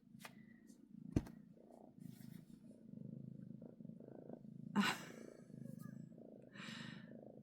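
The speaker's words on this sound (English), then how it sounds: "Do you hear her purring?" A foster cat purrs close by in a quiet room, a soft continuous low rumble pulsing through the whole stretch, with a couple of brief clicks and rustles over it.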